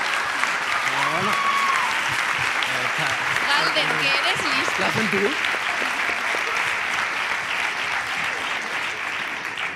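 An audience applauds a comedian during a live monologue, a dense, sustained wash of clapping while someone talks over it.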